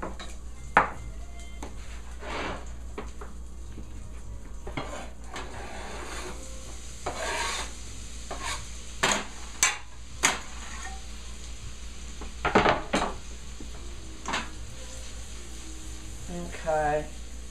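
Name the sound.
onions sautéing in melted butter in a pan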